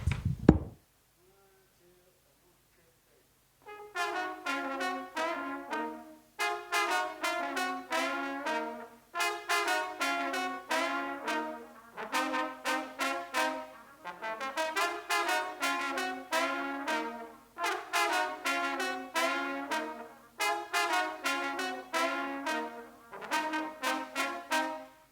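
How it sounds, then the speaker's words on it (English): A brass band's trombone section plays a short repeating loop in split harmony at a workshop in a London studio, phrase after phrase with brief gaps between, after a single knock and a quiet pause at the start. "We trombones have our own part that we do that just kind of keeps repeating itself on a shorter loop"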